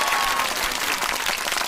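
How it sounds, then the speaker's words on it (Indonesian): A group claps along during a casual Indonesian podcast recording, a dense, steady patter of hands lasting under two seconds with no talk over it. "Nah, guys, tepuk tangan guys."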